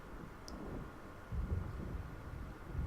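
A low, rolling rumble of thunder from a storm closing in over dark water in the game Alan Wake, heard faintly at a distance for a few seconds with no voices.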